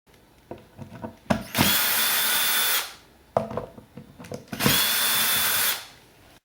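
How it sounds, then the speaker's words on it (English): A power drill backs out the screws holding a guitar neck to its body. Two rounds of loud, steady whirring sound up close, each a couple of seconds long and led in by short clicks and taps. "So in this case we need to install a neck shim, so we'll remove these screws."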